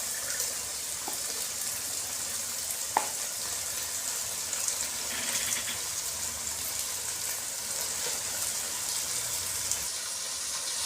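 Lentils (dal) frying in a pan with coriander, a continuous low sizzling hiss with a few faint knocks of stirring, fairly quiet and steady throughout.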